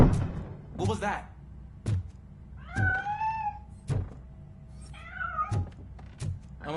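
A cat meows repeatedly in the RoboCop: Rogue City video game, several rising and falling meows spaced through the clip, with low dull thumps between them.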